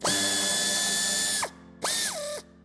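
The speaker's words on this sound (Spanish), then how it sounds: "para terminar de desmontar el paragolpes tendremos que quitar el tornillo" A ratchet wrench spins out the bumper screw on a 2021 Peugeot 308, two close, loud bursts of rapid clicking with a whining tone, one long and one shorter after a brief pause.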